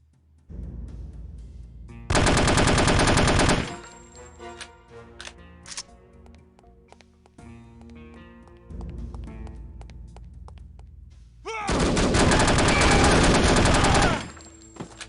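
AK-47 fire in the video game The Operative: No One Lives Forever. Two long, loud automatic bursts come between sparser clicks and shots.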